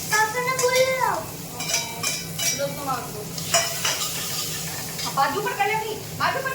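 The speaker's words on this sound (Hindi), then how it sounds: "तो बस सब्जी में तड़का लगाने लगी हूँ।" Spices for a vegetable tadka sizzle in hot oil with a steady crackling hiss, along with a few clinks of a utensil against a pan and faint voices in the background.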